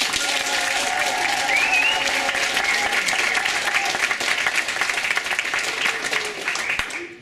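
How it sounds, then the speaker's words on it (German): A live slam poetry audience bursts into a loud, sustained round of applause, dense clapping filling the room steadily for several seconds before easing slightly at the end. "Und dann habt ihr einen 10er-Applaus und der geht so."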